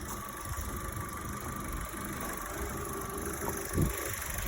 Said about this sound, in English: Gotta love the sound of that Ecotec 4-cylinder